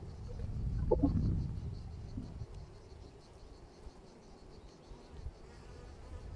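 Honeybees buzzing around an open hive during a September inspection, a steady soft insect drone with a louder swell near the start, heard fairly close without speech.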